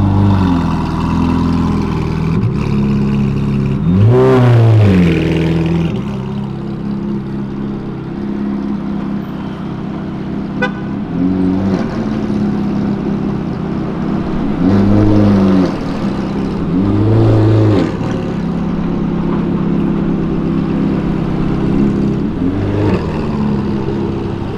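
A Ferrari accelerates along Avenida Europa, several loud revving bursts rising and falling over a steady engine drone, heard fairly close with no talk.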